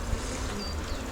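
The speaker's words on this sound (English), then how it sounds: "There's not that many bees in the super." Honey bees buzz steadily around an open hive during an inspection, a dense, continuous hum close by with no talking.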